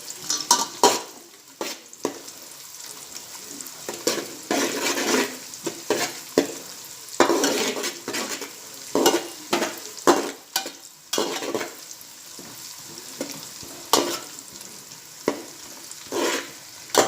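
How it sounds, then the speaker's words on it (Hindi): Cashews frying in ghee, a steady bubbling sizzle overlaid with frequent scraping and clinking stirring strokes against the pan, close and moderately loud. "काजू भी तलकर हो गए हैं।"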